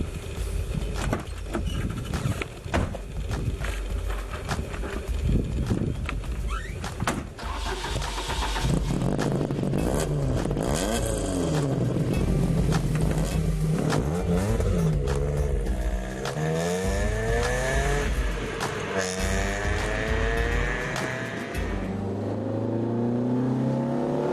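A Gusheshe, the BMW 333i, revs hard and drives off with a loud, continuous engine roar that rises and falls through the gears, steady and close throughout with no talk.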